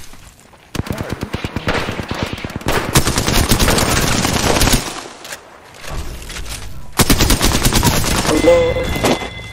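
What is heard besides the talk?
gunfire in Apex Legends video game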